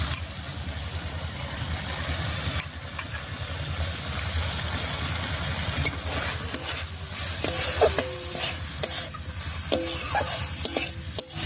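Washed red lentils are stirred into sizzling spice masala in a pan while cooking masoor dal with pumpkin. The steady frying hiss continues throughout, and a spoon scrapes and clinks against the pan several times toward the end.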